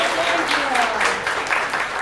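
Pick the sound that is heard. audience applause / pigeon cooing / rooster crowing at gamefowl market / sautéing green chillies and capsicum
audience applause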